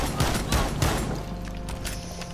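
Several quick, loud shotgun blasts in a Rainbow Six style tactical shooter video game, fired in fast succession and then trailing into a ringing decay; no one speaks.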